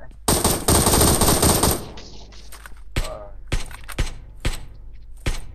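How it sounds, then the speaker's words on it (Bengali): A rapid burst of automatic gunfire in PUBG Mobile rattles loudly, followed by several single sharp shots spaced about half a second apart. "এইবার দেখি গুলি বেরাচ্ছে"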